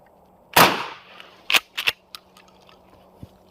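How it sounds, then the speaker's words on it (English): One sharp, loud shotgun blast from a Chris Kyle buckshot round, followed by several quieter clicks and handling noises. "So this is the Chris Kyle ammo."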